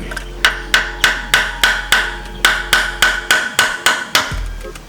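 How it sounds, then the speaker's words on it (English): A hammer strikes locking pliers about a dozen times in a steady, rapid rhythm, each metal blow sharp and ringing, close and loud. "get a hammer, beat it like it owes you money"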